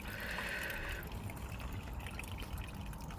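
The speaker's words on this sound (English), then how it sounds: "what I'm doing is I'm just flooding the substrate" Water from a hose floods the potting substrate of a freshly repotted variegated guava, giving a steady, quiet pouring and trickling with a brief brighter gush at the start.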